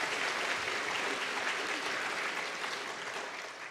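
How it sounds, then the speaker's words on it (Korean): A church congregation at a Sunday afternoon service breaks into sustained applause, a dense, even wash of clapping that slowly fades toward the end. "지금도 한번 박수 한번 보내주시면 좋겠네요"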